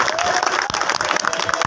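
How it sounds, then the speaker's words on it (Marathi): A crowd at a wrestling event claps for a chairman, a dense, continuous burst of applause with cheering mixed in, loud and close throughout. "सर्वांनी एकदा अभिजिताबांच्यासाठी टाळ्या करा सर्वांनी."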